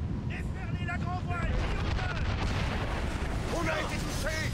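Mortar and cannon fire booms during a naval ship battle in Assassin's Creed Rogue, heavy rumbling blasts over wind and sea, with shouted crew voices cutting in and out.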